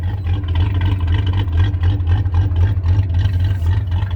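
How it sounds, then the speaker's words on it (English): A 1981 Ford Mustang engine idles roughly after a winter cold start at about minus 14 Celsius, a loud, steady low rumble with a slightly uneven, pulsing rhythm heard up close. "just listen to that cold idle"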